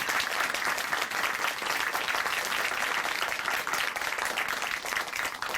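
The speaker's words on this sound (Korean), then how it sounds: "다시 한번 박수 보내드릴게요." A church program audience in Chuncheon claps in a steady, dense round of applause that stays even and fairly loud throughout, with no voices over it.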